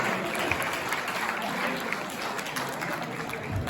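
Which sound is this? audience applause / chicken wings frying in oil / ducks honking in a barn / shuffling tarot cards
audience applause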